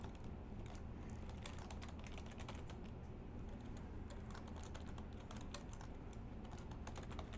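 Keys clatter on a computer keyboard in quick, irregular bursts of close, quiet taps that keep going for the whole stretch, with no one speaking.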